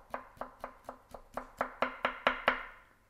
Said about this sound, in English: We're then gonna add some ginger, finely cut